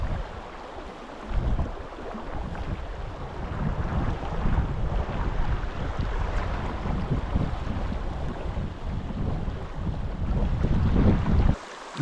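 Wind gusts buffet the microphone beside the West Walker River during fly fishing, a continuous rough rumble with rushing water underneath, swelling louder toward the end before cutting off abruptly.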